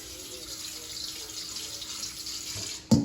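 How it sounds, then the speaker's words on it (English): Warm water runs steadily from a kitchen tap into a sink to dissolve salt for washing fruits and vegetables, a constant close hiss that ends in a sharp clunk. "I use a little bit of warm water to dissolve the salt"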